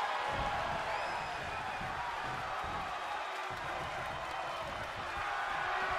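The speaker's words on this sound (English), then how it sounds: "The sound of this crowd is deafening" A WWE wrestling arena crowd roaring in a steady, broad wash of cheering and noise, sustained throughout with a brief dip near the middle.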